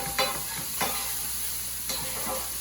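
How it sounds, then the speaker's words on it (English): Green peas stirred in a pan with olive oil, a steady soft sizzle broken by a few scraping strokes of the spoon against the pan, close and without talk. "And we just stir the green peas around"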